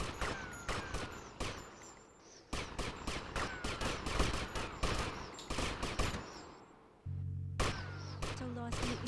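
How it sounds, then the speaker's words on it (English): Rapid gunfire bursts from the PS2 game GTA Vice City, loud clusters of shots with brief gaps, followed near the end by a steady electronic game tone under continued shots. "How are they shooting me?"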